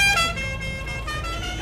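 A car horn honks on a city street near Parque Chacabuco, a loud, steady blare that sounds close, with traffic rumbling underneath.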